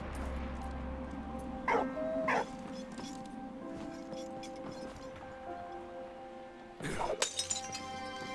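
In the World War I video game Valiant Hearts: The Great War, a dog gives two quick barks, then after a lull another sharp bark bursts out amid a crash of breaking glass.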